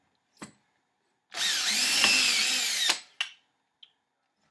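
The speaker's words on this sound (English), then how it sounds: "And then you go back and finish off the holes with the drill block." A hand drill bores guitar string and ferrule holes in wood for about a second and a half with a rising, whirring whine, bracketed by a few short clicks and knocks before and after.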